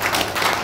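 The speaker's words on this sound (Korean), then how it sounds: "이분 위해서도 박수 한번 쳐야 됩니다." An audience at a lecture on reunification claps in a brief, dense burst of applause, loud and close, with no speech over it.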